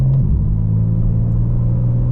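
A 2025 BMW M4 CS with an 8-speed gearbox, warmed up and switching into sport mode, drones at a steady low rumble while cruising. The engine note is close and continuous with no clear revving.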